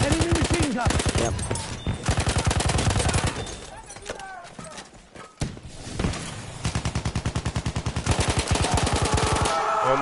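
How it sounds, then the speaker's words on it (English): Rapid machine-gun bursts from an enemy gunner in a trench-and-bunker war video game, loud and sustained in several long rattling volleys with brief gaps, with talk and other battle noise underneath. "Enemy machine gun."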